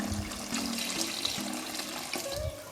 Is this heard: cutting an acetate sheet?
no